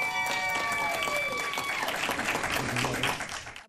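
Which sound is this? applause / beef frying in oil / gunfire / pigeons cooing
applause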